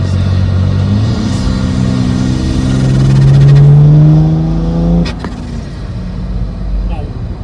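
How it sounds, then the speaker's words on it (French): A tuned 530 hp car engine, rebuilt after two turbos and a broken engine, revs up and accelerates through the gears, its rising drone loud and close, then the throttle lifts and it settles into a lower rumble. "on chauffe la voiture, tranquillou"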